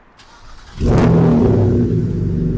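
A starter cranks briefly after a push-button start, then a BMW engine fires up loudly and settles into a deep, rumbling idle close by.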